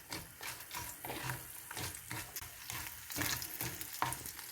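Garlic and masala frying in a kadai for masala chicken kadahi: a steady, close sizzle with repeated scraping and stirring strokes, and no talking.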